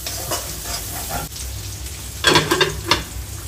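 Capsicum frying in a pan of oil for a shrimp curry, a steady soft sizzle with a louder burst of crackling and stirring near the end, no voices.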